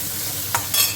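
Hilsa fish frying in a pan, a steady broad sizzle with two brief louder bursts of spattering oil, close and without talk.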